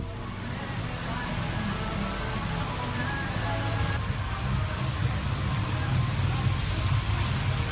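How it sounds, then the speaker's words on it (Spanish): Heavy monsoon downpour in Vietnam, a dense, steady hiss of rain pounding surfaces with a low rumble beneath, loud and unbroken throughout. "observa cómo es un aguacero natural en Vietnam"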